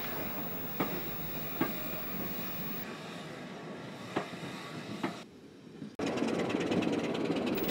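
Heritage railway coaches, including an executive saloon coach, roll past on the rails with a steady rumble and periodic clicks over rail joints, ending in a sudden louder rush of noise.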